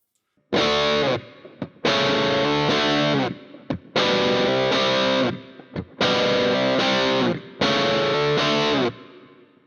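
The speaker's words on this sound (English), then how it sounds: "this is the original tone of the bridge pickup" A GTRS intelligent electric guitar plays through its bridge pickup in its original tone: heavily distorted chords struck in repeated, sustained bursts with short gaps between them, loud and close with no talking.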